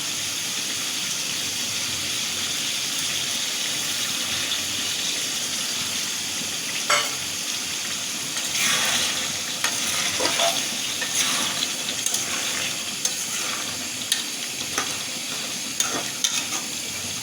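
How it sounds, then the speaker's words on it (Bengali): Chui jhal meat being stir-fried down with a little water: a constant close sizzle with intermittent scraping stirs growing busier toward the end, and no voices. "আমি এভাবে অল্প অল্প করে পানি দিয়ে সুন্দর করে কষিয়ে কষিয়ে নেবো"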